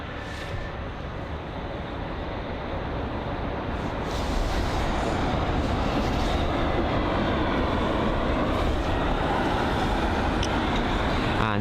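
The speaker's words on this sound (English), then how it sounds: "an aircraft pushing back now, the United 777" A United Boeing 777 pushes back at London Heathrow, its engines giving off a steady, distant roar that grows a little louder partway through, with no voices.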